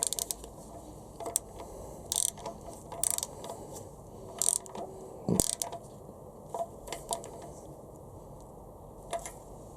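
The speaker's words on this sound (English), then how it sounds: "with a 27mm socket, I can just tighten that up" A ratchet with a 27mm socket tightens a part on a Honda B18C4 engine: several short bursts of quick metallic clicking, close and sharp, separated by quiet pauses and no talk.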